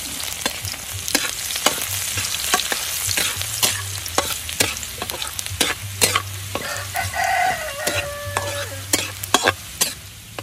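Garlic sizzling and frying in hot oil in a pan at an outdoor farm kitchen, with steady crackle, repeated stirring scrapes, and a rooster crowing in the background.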